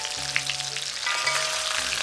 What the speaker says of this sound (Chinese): 炒白菜